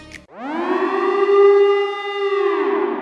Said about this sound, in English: Sirens tore through the night.